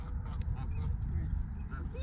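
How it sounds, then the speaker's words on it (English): Snow goose honking at a lakeside park, several nasal honks and quacking calls over a low rumbling background, with people's voices faintly mixed in. "Snow goose."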